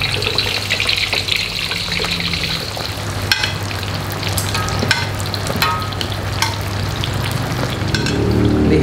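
Loud, continuous sizzling of beef lung with red chili frying in hot oil, with occasional clinks and stirring noises throughout.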